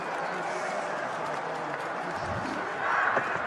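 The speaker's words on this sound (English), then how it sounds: "And listen to the crowd." A large cricket crowd roars steadily after a catch is taken at mid-wicket, a dense, continuous wash of cheering and clapping that swells slightly toward the end, heard from a distance.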